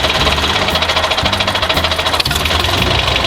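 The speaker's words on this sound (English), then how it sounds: "An orange tractor." An orange tractor's engine runs steadily with a loud, rapid knocking chug and low, repeating throb that holds for a few seconds with no talking.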